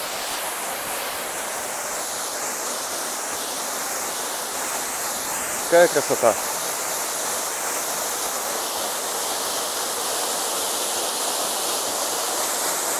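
Water from a small waterfall rushes and splashes in a steady, hissing roar throughout. Near the middle, a person says a few brief words.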